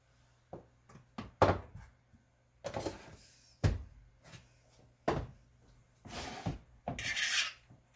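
Irregular scraping and rasping strokes of a fork against a bowl, close up, in short bursts with pauses between.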